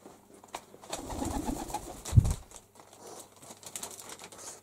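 Pigeons coo softly in an outdoor dovecote, one of three in a yard, at an early-morning cleanup. Low murmuring coos come from close by, with a brief louder flutter or thump partway through and quiet background noise.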